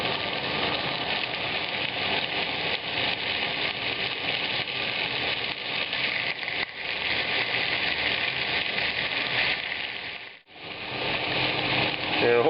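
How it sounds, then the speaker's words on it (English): Pork frying in sesame oil in a very hot pan, a steady loud sizzle and crackle that runs without pause, with one brief dip where the sizzle drops away. "I'm going to begin frying the pork in the sesame oil."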